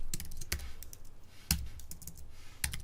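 Typing on a computer keyboard while entering code, with irregular bursts of crisp clicking keystrokes and brief pauses between groups of presses, close and moderately quiet.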